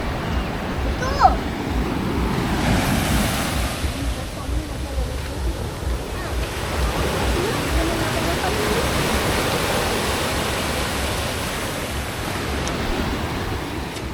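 Sea waves at Batu Feringghi beach in Penang wash in as a steady, broadband roar of surf that runs continuously and fairly loud, with faint voices mixed in beneath it.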